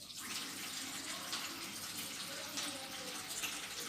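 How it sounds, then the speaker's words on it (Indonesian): Running water from a tap as hands are washed in a chlorine solution during a clinical birthing-care procedure, a steady close splashing flow throughout with no talk. "saya akan melakukan cuci tangan di larutan klorin"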